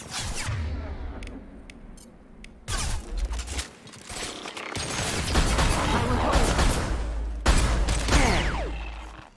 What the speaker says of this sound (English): How many times I gotta shoot you?